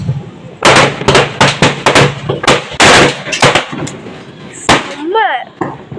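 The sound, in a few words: firecrackers bursting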